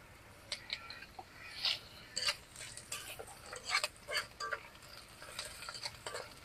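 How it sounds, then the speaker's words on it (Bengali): Cumin seeds are dropped into hot oil with fried green chilies in a pan, giving a quiet, irregular run of crackling pops and small ticks over several seconds, with faint utensil clinks. "তো এখন আমি জিরে দিব যেহেতু কাঁচামরিচ ভাজা হয়ে গেছে জিরে দিব"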